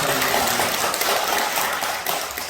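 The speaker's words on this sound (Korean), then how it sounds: "박수 보내주시기 바랍니다" A church congregation at Sunday worship applauds with a dense, steady clatter of many hands that fills the room and tapers slightly near the end.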